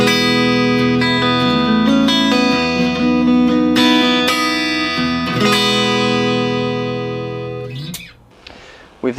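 Bright, clean electric guitar strums and notes through a Blackstar ID:Core BEAM amp on its clean bright setting, ringing and sustained for several seconds before fading out.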